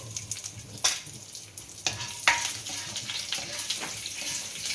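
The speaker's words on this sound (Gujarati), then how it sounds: "ત્યારબાદ લીમડાના પાન અને તજ ને લવિંગ નાખશું. પછી એનો વઘાર કરીશું." Curry leaves, cinnamon and cloves crackle in hot tempering oil for a Gujarati fajeto. A constant sizzle is broken by several sharp, loud spitting bursts, close by.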